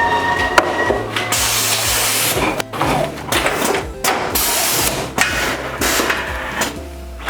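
A Rollbag R3200XL automatic bagger packs items into poly mailer bags, with loud, busy machine clatter, pneumatic hissing bursts and sharp mechanical thumps in an uneven rhythm throughout.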